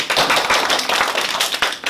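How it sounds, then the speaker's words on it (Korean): A class applauds a presenter at a university geography-teaching mock lesson, steady dense clapping from many hands filling the room for about two seconds. "박수"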